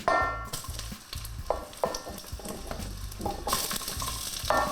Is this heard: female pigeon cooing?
no